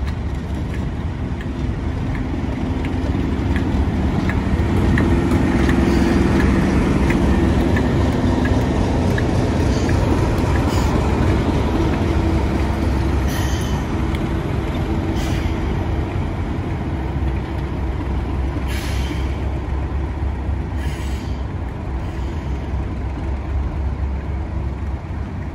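Diesel locomotive 37674 creeping slowly at the Strathspey Railway during a diesel gala, a steady low engine rumble and continuous mechanical drone lasting throughout, moderately loud and unbroken with no talk.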